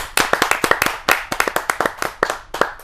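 An audience at a poetry gathering claps for a poet. The applause is loud and close, with a quick, uneven rhythm of many hands that continues throughout.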